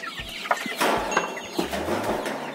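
Roosters on a small backyard poultry farm cluck and call at harvest time, several birds at close to middle distance, with short clucks and squawks scattered irregularly over faint background noise.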